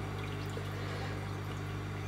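An aquarium protein skimmer's impeller churns water into a steady mass of fine bubbles, giving a continuous, quiet hiss and trickle with a low steady hum underneath, no voices over it.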